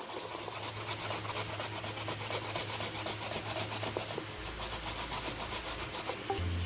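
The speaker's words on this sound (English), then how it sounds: "I'm going to go ahead and start by grating my dasheen" Dasheen is rubbed hard against a sharp grater in a continuous rapid rasping scrape, close and steady with no voices.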